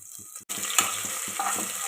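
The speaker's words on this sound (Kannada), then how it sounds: "ನೋಡಿ, ಎಲ್ಲ ಎಣ್ಣೆಗೆ ಚೆನ್ನಾಗಿ ಫ್ರೈ ಆಗ್ಯದ್ರಿ." Garlic frying in hot oil in a pan for a simple vegetable pulao, a close, steady sizzle broken by a brief gap and a few stirring scrapes.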